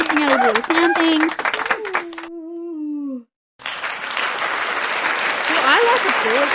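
A canned applause effect from a soundboard bursts in after a spoken voice and a brief silent gap, a dense wash of clapping that holds steady for several seconds, with voices talking over it.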